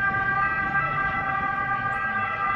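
An ambulance siren wails steadily throughout, loud and near, with the noise of road traffic running underneath. It comes from an emergency evacuation of injured people to hospitals in Bafoussam.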